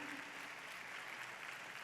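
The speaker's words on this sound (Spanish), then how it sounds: "Dale un aplauso al Señor." A church congregation at a Spanish-language worship service applauds together, a dense, even wash of clapping that holds steady for a couple of seconds.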